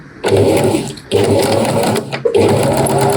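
A sewing machine stitches fabric pattern pieces placed right sides together with a quarter-inch seam for a slow-stitched hydrangea flower project, running in three loud, close bursts separated by brief pauses.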